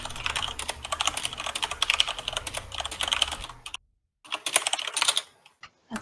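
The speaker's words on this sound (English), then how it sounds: "That's some furious typing." Loud, fast clatter of computer keyboard typing during a heroic Emerald Nightmare raid in Legion, dense and continuous, pausing briefly before the rapid keystrokes resume.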